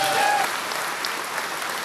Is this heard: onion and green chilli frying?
no